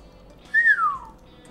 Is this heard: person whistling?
yes